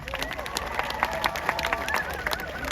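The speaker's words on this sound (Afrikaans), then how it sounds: "Geef vir julleself 'n klap." An audience at the KKNK opening concert claps and cheers, a steady wash of applause filling the space throughout, moderately loud, with a voice speaking over it.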